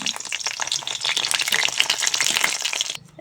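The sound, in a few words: frying chana dal fritters (bora) in oil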